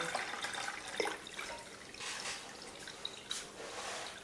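Tap water running into a square bioflok fish pond for tilapia, a faint continuous splashing and dripping wash heard at a distance with no voices over it.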